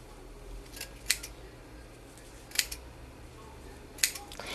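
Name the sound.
cutting crochet bag straps at the base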